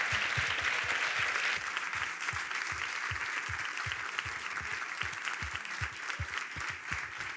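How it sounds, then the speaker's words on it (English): An audience at an open source conference applauds steadily, a dense wash of clapping that carries on without a break, with a regular low thumping beat running underneath. "Round of applause again, final one."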